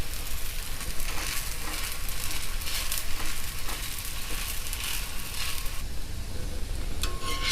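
A bottle gourd rice roti cooks on a pan over a low flame, giving a steady soft sizzle throughout with a few faint scrapes and taps, close and continuous, with no voices.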